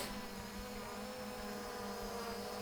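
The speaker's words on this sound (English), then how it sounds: "Let's go ahead and unlock the motors and do an auto takeoff" A Holy Stone HS700E GPS drone spins up its motors for an automatic takeoff, a faint steady whirring drone with a sustained tonal hum and high whine, continuous and unchanging throughout.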